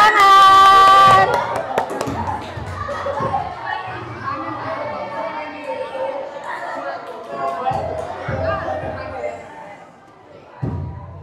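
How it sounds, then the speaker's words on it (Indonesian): A class of tenth-grade students at a high school claps together, a dense burst of applause at the start that gives way to lively chatter and scattered hand sounds from the room. "Oke, tepuk tangan."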